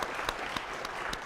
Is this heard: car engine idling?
no